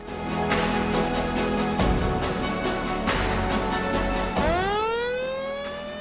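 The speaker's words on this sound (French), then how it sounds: "Si vous entendez la sirène d'évacuation" A loud wailing siren with repeated rising and falling tones, cutting off and restarting, then sweeping upward into a sustained howl.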